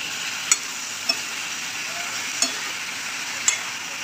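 Drumsticks and pumpkin stirred into frying masala for sambar make a steady soft sizzle, with four sharp clacks of a spoon against the pot spread through it, close by and without speech.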